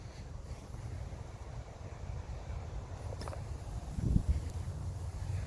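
Steady low wind rumbles across a coastal disc golf course in Carolina, with buffeting against the microphone and a brief stronger gust near the end.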